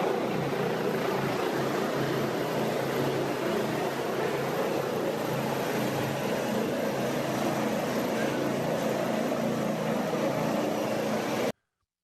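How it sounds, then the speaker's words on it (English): ADAC rescue helicopter setting down on a Berlin street, a broad steady rotor roar with traffic-like rumble underneath, running evenly before cutting off abruptly. "A surprising moment when an ADAC helicopter landed on the street in"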